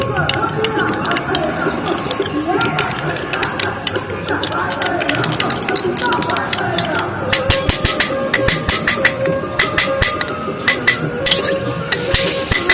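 Vaseline being stirred in a small container for homemade liquid sindoor gives quick, repeated clinking taps, sparse at first and then denser and sharper in the second half, with some voice underneath.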